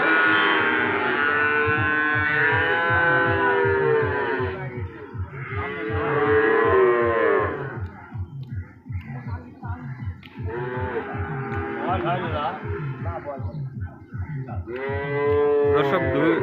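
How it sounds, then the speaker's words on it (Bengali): Two water buffaloes on a small farm moo loudly and repeatedly, long, low, drawn-out calls close by, alternating with short pauses. "এটা দুইটাই প্রান্তিক খামারের মহিষ"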